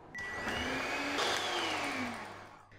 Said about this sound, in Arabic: هنضرب البيض والسكر لحد ما يتضاعف حجمه ويبقى لونه ابيض